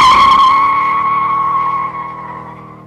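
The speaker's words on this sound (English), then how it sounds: "The vehicle goes out for a lap on the track, works up quite a bit of energy in the vehicle, develops a lot of temperature" A Chevrolet C5 Corvette driven hard on a test track, loud and close, with a sustained tonal tire squeal that fades gradually over about three seconds.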